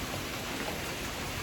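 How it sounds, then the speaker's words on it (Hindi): Light, steady rain falls during a cold spell, a soft even hiss of drops that holds at the same low level throughout with no one speaking. "ऐसी हल्की हल्की बारिश तो बस लगी ही हुई है, बिल्कुल बंद नहीं हो रही है।"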